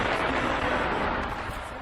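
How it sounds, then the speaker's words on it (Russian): Several tonnes of explosives detonating under the ancient stone reliefs of Nimrud, a dense, continuous roar of blasts and rumbling debris that stays loud and sustained throughout, with no clear gaps between bursts. "А это, собственно, сами взрывы, которые превратили реликвии в груду щебня."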